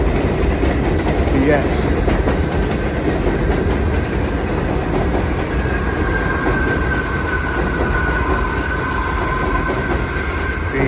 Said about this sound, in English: I'll tell you the train's gonna come